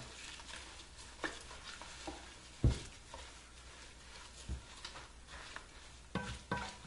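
Herbal blood-purifier mixture being stirred and pressed down in a container, giving faint scraping and soft patter with a few sharper knocks, quiet and close, with no talking.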